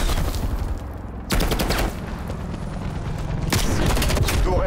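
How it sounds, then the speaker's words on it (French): Bursts of automatic fire from an enemy turret in a video game, dense crackling volleys at moderate distance that swell in two loud stretches over a steady background rumble. "Tourelle automatique ennemi active."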